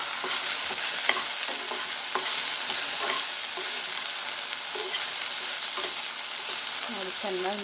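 Okra (bhindi) stir-frying in a pan with chilli powder, coriander powder and salt, a steady sizzle running throughout with scraping stirs of a spoon rising and falling, close and continuous.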